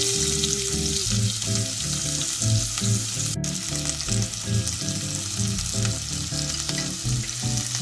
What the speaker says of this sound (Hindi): Once the oil is heated up, we'll add the onion.